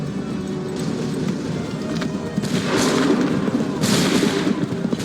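Musket volley gunfire in Assassin's Creed III, a dense crackling burst of shots around the two-second mark and again near four seconds over a constant battlefield rumble, with soldiers' voices faintly underneath.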